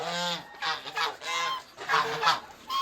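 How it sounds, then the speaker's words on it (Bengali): Several pet ducks on a rooftop call out noisily in harsh, honking bursts, overlapping in uneven clusters close by. "দেখেন আমার হাঁসগুলো দেখেন চিল্লাচিল্লি করতেছে"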